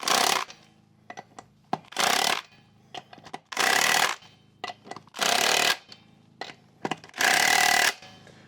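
Lug nuts are driven tight onto a forged wheel on a Jeep JK with JL studs, as a power tool rattles in five loud, near bursts of about a second each, separated by short clinks and pauses.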